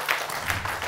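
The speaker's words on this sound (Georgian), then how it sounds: "აპლოდისმენტები." A studio audience applauds on a Georgian comedy game show, a steady, fairly loud wash of clapping that carries on through the whole second with no voices.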